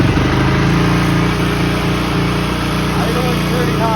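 A Cannondale engine idles high just after starting, with a loud, steady, unbroken drone that stays close throughout.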